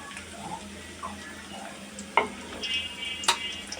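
Onions have just gone into a hot pan for a vegetable fry: a soft, quiet sizzle broken by a few sharp clinks and scraping stirs.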